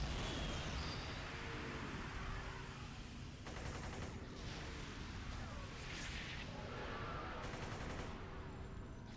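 Rapid gunfire and bursts of shots crackle through combat in the City of Heroes game, continuous and fairly faint, with heavier blasts pulsing in at intervals.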